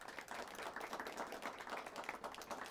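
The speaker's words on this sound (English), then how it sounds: "Our judges, give them a round of applause, please." An audience claps for the judges at a school competition round, a quiet, fairly even patter of hands heard from a distance with no talk over it.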